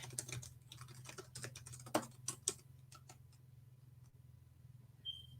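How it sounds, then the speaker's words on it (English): Computer keyboard typing in quick irregular bursts of clicks with a couple of louder key strikes, close and fairly quiet over a steady low background hum, with no talking. "All right, I'm typing to you."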